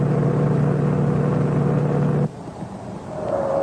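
A 1973 Buick GS 455 performs a reverse spin on a test track, its engine roaring loudly and steadily before the sound drops abruptly to a quieter, rising hum.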